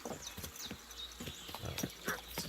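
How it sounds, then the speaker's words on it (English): A horse trotting in the video game Kingdom Come Deliverance 2, its hooves making a steady clip-clop rhythm over ambient game sounds. "That's my horsey"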